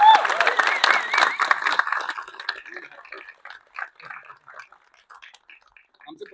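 Applause from an audience at a film screening, loud and dense at first, then thinning to scattered individual claps that fade out.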